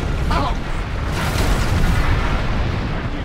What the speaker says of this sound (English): Throw your grenades.